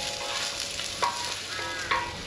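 Potatoes and pork fillet fry on a gas griddle, making a continuous close sizzle with a couple of brief scraping stirs, no talking.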